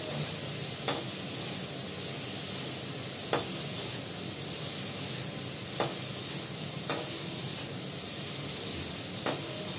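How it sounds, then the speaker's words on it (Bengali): Meat cooking in a little oil gives a steady low sizzle and hiss, punctuated every couple of seconds by a sharp scrape or tap of a utensil against the pan. "অল্প তেলে রান্না করছি যেহেতু গরম"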